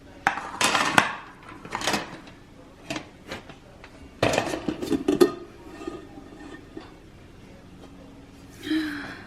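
Lemon cakes being knocked and eased out of a metal baking pan, a run of clattering taps, scrapes and bumps at close range, with a short vocal reaction near the end.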